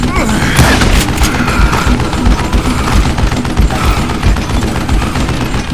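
Dense, continuous game gunfire from Call of Juarez Gunslinger, with rapid overlapping shots and booms forming a loud, steady barrage throughout.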